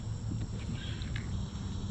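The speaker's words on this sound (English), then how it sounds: "You hear the cicadas going, Brood X is in full force." Brood X cicadas chorusing outdoors near water, a continuous dense buzzing drone held steady throughout at moderate level, with no talk over it.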